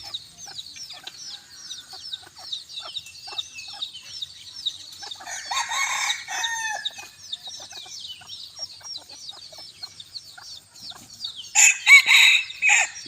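Bantam roosters crowing on a warm evening, several cock-a-doodle-doo calls and clucks at moderate distance, with a louder, nearer crow near the end amid other faint fowl sounds.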